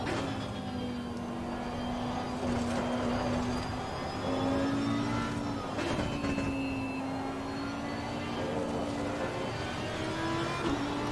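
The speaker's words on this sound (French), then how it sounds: "Je vais vous laisser également profiter un petit peu du son de la voiture" Race car engine in the video game Assetto Corsa Competizione, droning steadily with a whining pitch that rises and falls through gear changes and throttle lifts, loud and continuous with no talk.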